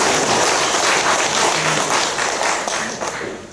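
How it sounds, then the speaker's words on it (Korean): A congregation at a Wednesday church service breaks into loud, dense applause that fills the room, holding steady before tapering slightly at the end. "여러분 박수 칩시다"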